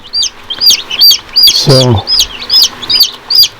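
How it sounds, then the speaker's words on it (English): Baby chicks peep in a brooder, sharp high chirps repeating close and loud in quick bursts, with a short lower sound midway. "Got the baby chicks today"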